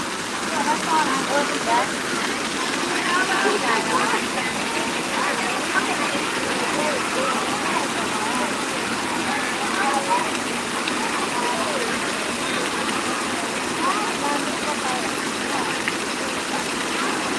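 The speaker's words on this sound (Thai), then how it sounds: "ฝนตก" Rain falls at a Thai temple in Nong Hin district, Loei province, making a steady, dense hiss that stays even throughout, with faint voices mixed in.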